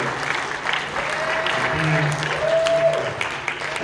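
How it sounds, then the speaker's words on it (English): Audience applause for the mayor at a public event, a steady wash of clapping with tonal sounds and voices mixed in. "Let's give a round of applause for the mayor"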